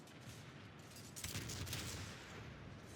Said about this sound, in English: This should be the last volley.